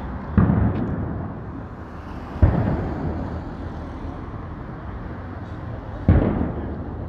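Crowd dispersal devices explode during unrest in Jerusalem at Ramadan, three loud booming blasts spaced a few seconds apart, each followed by a rumbling decay.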